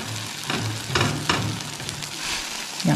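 Stinky tofu frying in a pan, an even close sizzle with a few soft scraping stirs and clinks.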